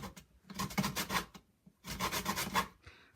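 A lemon being zested by rubbing it against a grater, heard as two close, soft stretches of rhythmic scratchy rasping separated by a brief pause, with no voices.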